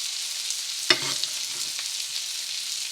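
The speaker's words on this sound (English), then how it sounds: "And let's baste the top again with some of that butter." Pork tenderloin seared in a pan and basted with butter gives a steady, bright sizzle throughout, close by, with a sharp spattering crackle near the start and a few softer pops after it.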